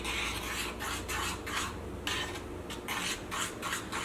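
Leftover rice and onion vada batter is mixed in a bowl by hand or spoon, giving close, rhythmic wet squelching and rubbing strokes in repeated bursts, with no voices.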